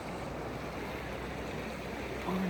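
A stream flows near the Kali river below a palace in Nepal with a steady, broad, rushing wash. A brief voiced sound breaks in near the end.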